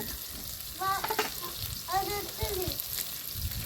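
Masala eggplant curry (vankaya) sizzling in a pan as chili powder goes in, a steady soft frying hiss with stirring scrapes, while a voice chatters lightly over it.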